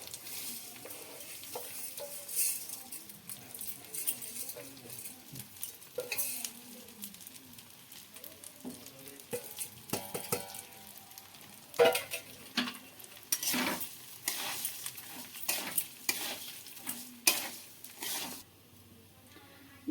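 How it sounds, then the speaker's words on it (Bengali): Rice for Bengali basanti pulao stirred and fried in a pan, with steady sizzling and repeated sharp scrapes and clinks of the spatula that grow more frequent toward the end. "এবার আমি চালটা দিয়ে ভেজে নেব।"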